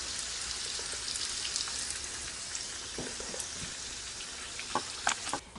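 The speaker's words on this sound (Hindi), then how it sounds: "तो अब हम दूसरी पूरी तल लेते हैं।" Dal puri frying in hot oil, a steady dense crackling sizzle close by with a few brighter pops and spatters near the end.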